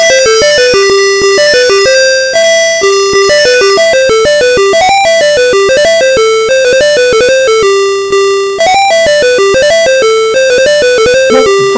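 Loud, busy chiptune music from the Amiga game Fraction Goblins plays, full of rapid bright synthetic notes and bouncy melodic lines running continuously, with no speech over it.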